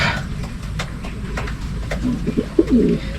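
Racing pigeons coo in a loft during training, soft repeated throaty calls rising over a steady low background, with a few sharper coos near the end and no talking.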